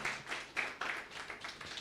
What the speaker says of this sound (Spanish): Con un grande aplauso los recibimos al Canto Esperanza.